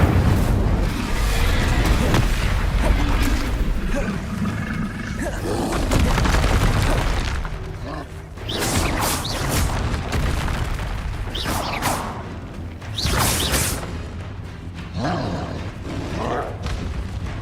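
Incendio fire spell cast in the video game Hogwarts Legacy, a loud, dense whooshing blast with booming rumbles and crackling bursts that rise and fall over several seconds amid continuous game effects.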